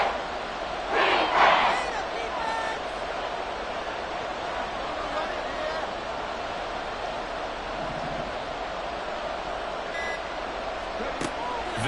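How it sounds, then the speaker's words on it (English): A football stadium crowd builds a sustained roar before a big third down, with a sharp cheering swell near the start and distant whistles and beeps later, under a play-by-play announcer. "The crowd getting into it as we come up on a big third down."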